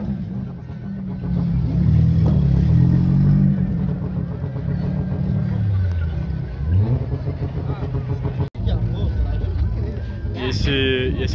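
A Ford Ka engine rumbles and revs at a car event exit, a loud, low drone with a rising rev near the end, heard under continuous nearby chatter in Portuguese.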